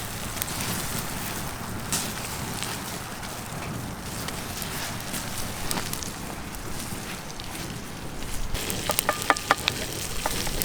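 Venison steak from a freshly shot buck sears on a Breeo Phoenix sear plate over a wood fire, giving a steady close sizzle with crackling flare-up bursts and sharp pops toward the end.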